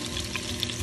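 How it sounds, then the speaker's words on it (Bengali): Garlic sizzling in a pan over high flame, a soft steady crackle and hiss, fairly quiet and heard alone. "এখন এই রসুনগুলো আমরা লাল লাল করে ভাজবো"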